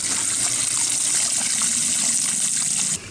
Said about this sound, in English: As the Turbo T-Jet is operating, water will shoot here to help loosen up algae,